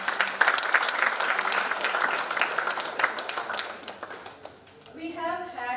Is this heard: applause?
yes